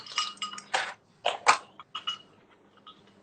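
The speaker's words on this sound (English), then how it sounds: "So I like to use 1 spoon, yeah, a couple of ice cubes in there" Several ice cubes clatter into a metal cocktail shaker with a spoon, giving a run of sharp clinks and knocks in separate bursts, close and clear, with no talking.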